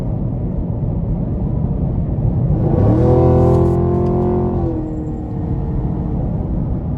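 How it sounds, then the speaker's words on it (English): A 2021 Chevrolet Camaro 2SS coupe in track mode briefly opens up, its exhaust swelling into a loud, rising rev for about two seconds before settling back to a steady rumble of cabin road noise. "Just a great sound from the exhaust,"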